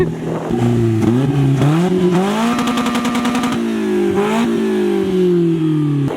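A Slingshot three-wheeled roadster's small engine revs up through several gear changes, pitch climbing and dropping, loud and close with a buzzy, motorcycle-like tone.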